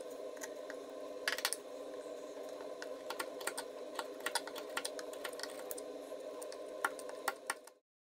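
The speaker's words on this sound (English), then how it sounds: "Pare down the rest of the wood with a chisel" A chisel pares wood on a cigar box guitar kit, giving a series of quiet, crisp scraping clicks and ticks at an irregular pace over a steady low hum, then stopping abruptly near the end.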